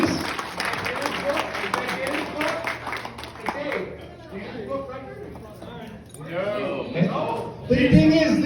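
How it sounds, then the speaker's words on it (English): Clapping from an audience at a golf club Hall of Fame induction, a dense patter through the first half that thins out while voices talk and cheer over it. "Let's get a round of applause for that, people."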